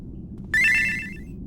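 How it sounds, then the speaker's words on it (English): A bright ringtone-like notification chime for party messages during a game stream, a single short melodic burst of quick tones rising over a low hum, then fading out. "I need to turn that notification sound off."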